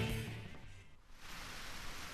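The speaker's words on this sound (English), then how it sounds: "The rain was still pouring." Steady heavy rain pours in a visual novel video game, a dense even hiss that briefly dips and then resumes at full strength.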